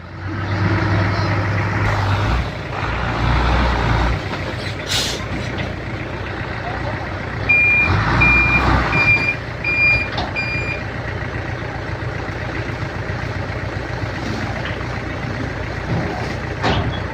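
A six-wheel truck works on a narrow job site while towing, its engine a loud, steady rumble throughout, with a burst of repeated reversing beeps partway through.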